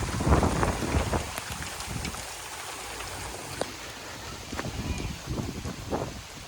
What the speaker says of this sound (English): Here comes the wind and the rain.